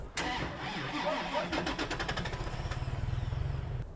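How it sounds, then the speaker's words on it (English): A 2021 Toyota Tacoma 6-speed manual truck cranks on its starter motor, giving a loud, steady, rapid whirring chug, close by and with no voices. "You can kind of move the vehicle with just the starter motor if you wanted."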